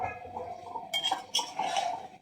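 Potato and eggplant curry with dried loitta fish being stirred in a metal pot, giving clinks and scrapes of a utensil against the pot over a steady background hiss.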